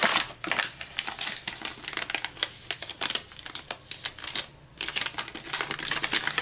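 Vellum paper creased and folded by hand into an envelope, giving crisp rustling, crackling and tapping bursts in quick irregular succession, close and fairly loud, with a brief pause midway and no speech.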